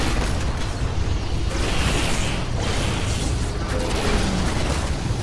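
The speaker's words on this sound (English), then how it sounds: "I'm using that cluster missile just to back him up." Cluster missiles fire in Titanfall as a dense, unbroken roar of bursts and mechanical rattling, loud and continuous, with no voices on top.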